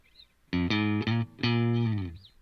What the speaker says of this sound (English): we got a little bit of a guitar riff.